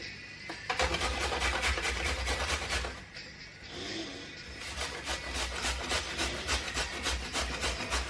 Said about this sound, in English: I might not have enough carrot here, so what I'm going to do, I'm going to grate it